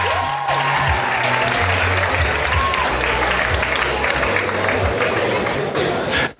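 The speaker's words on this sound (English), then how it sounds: "Clap for him." Audience applause for a 12-year-old youth poet at a rooftop poetry show in the UAE, a steady wash of clapping over low rumbling background and some crowd noise, loud and sustained before cutting off abruptly.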